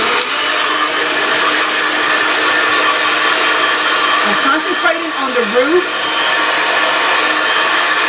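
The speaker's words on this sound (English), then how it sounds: "we're going to blast it with my diffuser. Well, my hair dryer." A hair dryer blows loudly and continuously, close up, while someone speaks briefly over the steady whooshing roar.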